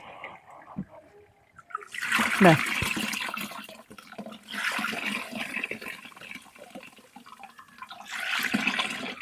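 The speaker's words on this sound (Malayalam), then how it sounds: "ഞാനിപ്പോൾ ഇതിനകത്ത് വെള്ളം ഒഴിക്കട്ടെ" Water pours and splashes steadily into a container while mixing a neem-based pest spray for plants, a loud rushing stream in bursts under someone speaking throughout.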